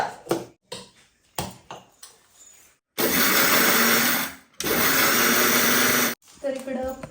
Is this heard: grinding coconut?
yes